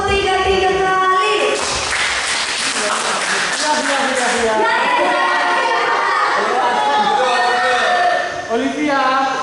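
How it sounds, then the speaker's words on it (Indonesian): An audience at a youth church service claps together in a short patterned burst amid lively crowd noise and raised voices. "Tepuk 3 3 kali."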